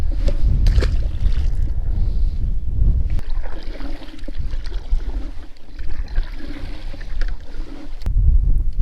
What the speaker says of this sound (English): the wind's blowing so hard